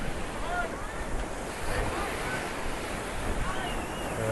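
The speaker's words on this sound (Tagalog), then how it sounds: "Malakas yung yung alon at saka yung hangin." Strong ocean waves surge continuously at Puka Beach, mixed with gusty wind buffeting the microphone in a dense, steady roar with no pauses.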